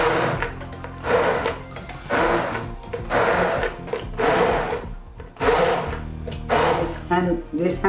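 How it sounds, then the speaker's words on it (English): A hand blender whirs in bursts while pureeing cauliflower soup, with someone talking steadily over the motor noise. "You can puree the vegetable with hand blender or in a food processor."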